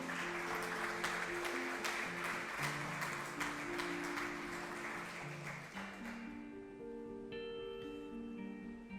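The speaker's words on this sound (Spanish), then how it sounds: "Digámosle amén y démosle un aplauso al Señor." A church congregation claps in steady rhythmic applause for several seconds, then it fades out and sustained organ-like musical tones continue.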